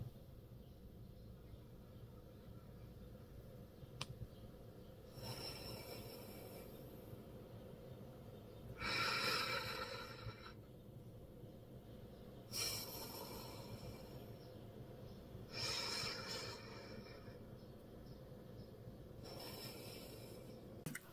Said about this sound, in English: that is the alternate nostril breathing